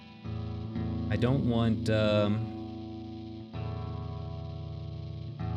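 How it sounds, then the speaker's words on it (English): Electric guitar chords ringing out through a heavy reverb effect, with a long wash of sustained tone and a couple of strummed accents, played alongside someone speaking over it. "Okay, so I've got my reverb up."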